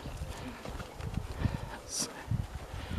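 A young horse led on a halter during training, soft hoof steps thudding irregularly on the ground while a trainer talks nearby.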